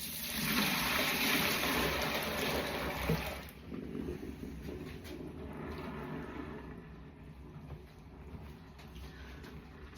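Soapy washing-up water thick with too much washing-up liquid drains from a sink, a gushing rush that suddenly drops to a softer gurgling trickle, with no talking.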